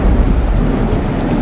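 Dark, stormy weather over the ocean: steady heavy rain pours with deep rolling thunder rumbling continuously beneath, loud and enveloping, with no voices.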